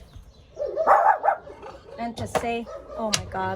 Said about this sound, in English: And you hear the dogs just barking.